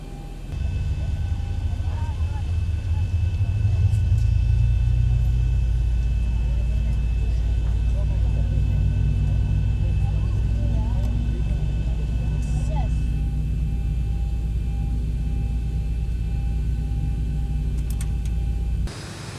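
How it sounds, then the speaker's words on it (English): A Boeing 737-800 simulated in X-Plane 11 as engine number 1 starts, a steady low rumble and whine that builds early and holds evenly inside the cockpit, with faint clicks near the end. "let's go and start engine number 1"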